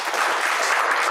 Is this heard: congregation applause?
yes